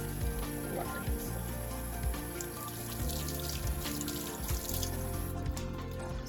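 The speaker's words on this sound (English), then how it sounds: "I need dish soap since there's so much oil. Wash your hands." Tap water runs steadily into a sink while oily hands are washed with dish soap, splashing and dripping as the hands rub, with no talking, close and moderately loud.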